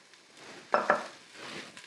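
Chopped leeks go into a hot pan of spices for a sofrito, giving two quick, close sizzling bursts followed by softer frying and stirring noise.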